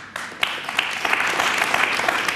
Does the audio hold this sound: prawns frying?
no